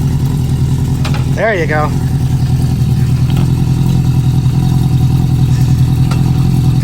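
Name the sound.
1973 Honda CB350 Four motorcycle engine started and revved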